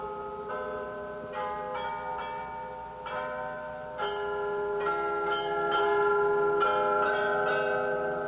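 The carillon bells of Munich's city hall ring out a steady melodic sequence of struck bell tones, overlapping and sustaining at a moderate distance, with a faint ambient background beneath.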